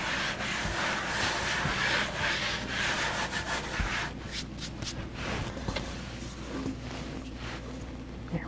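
Floured hands rubbing together while working bread dough for croissants, a close, steady dry rubbing and brushing that runs throughout, with a few soft scuffs and taps toward the end.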